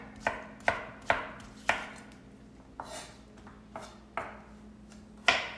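Zucchini is chopped with a knife on a board in a quiet kitchen, giving about ten sharp, distinct thuds at an uneven, unhurried pace, close and fairly soft.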